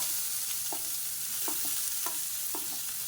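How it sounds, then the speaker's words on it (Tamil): Finely chopped large onions frying and being stirred in a pan, a steady sizzle with a spatula scraping every half second or so, close and alone. "பெரிய வெங்காயம் நல்லா பொடியாக கட் பண்ணி வச்சுருக்கேன் அதை சேர்த்துக்கலாம்"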